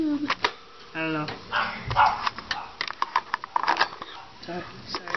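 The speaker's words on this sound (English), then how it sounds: "Sorry, that's my dog." A dog gives a few short yips and barks amid rustling and shuffling noises nearby, while a person talks over much of the sound.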